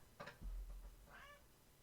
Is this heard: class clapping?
no